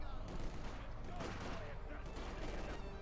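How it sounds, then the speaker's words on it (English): Machine gun fire rattles through a Company of Heroes 2 match of Wehrmacht against Soviets, with bursts of gunfire merged into a dense, continuous wall of battle noise at moderate loudness. "Machine gun sitting up there."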